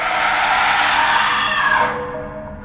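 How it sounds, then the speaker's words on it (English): A woman lets out a long, loud, blood-curdling scream as a sound effect in an animated horror story, sustained and piercing for nearly two seconds before cutting off into a fading tail. "The woman's wails turned into a blood-curdling scream as I watched in horror."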